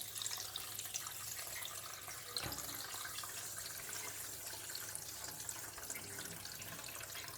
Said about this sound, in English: If I open it, you're going to hear water going through that line.